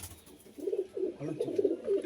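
Andhra line pigeons coo in a steady run of low, throaty, repeated calls, fairly close and with no talk over them.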